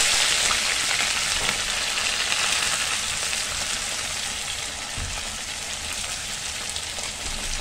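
Sliced onions and green chillies fry in a hot pan for an egg curry, giving a steady, dense sizzle that hisses evenly throughout with no voices.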